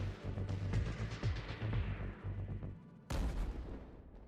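Dense rumbling bursts of artillery fire roll on continuously over a village battlefield, shells landing on attacking soldiers, with a sharp loud blast near the end; distant booms overlap into a heavy, chaotic barrage.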